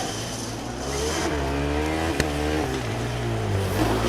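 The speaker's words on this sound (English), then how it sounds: "Very weird noises though coming from the car." A Formula Student race car on track during an endurance event, its engine droning loud with rising and falling pitch, odd wavering harmonics and a sharp click midway, sounding rough and strange.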